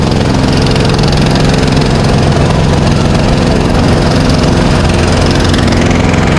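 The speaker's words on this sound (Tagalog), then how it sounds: "Ito, pinaandar na nila yung mga generator dito." Generators running in Baguio City during a midday power outage: a loud, steady engine drone with low knocking rumble, continuous and close throughout with no talk.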